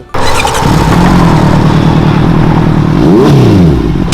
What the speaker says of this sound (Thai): ก็จะเป็นท่อสำหรับรถบิ๊กไบค์ครับพี่ต้น